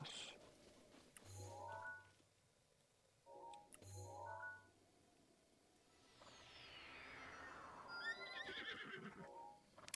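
Horse neighing in The Legend of Zelda: Breath of the Wild, played on PC through the CEMU emulator: two short whinnies near the start, followed by a long rising whoosh and chiming game effects, with no talking.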